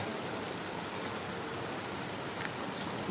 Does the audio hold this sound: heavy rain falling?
yes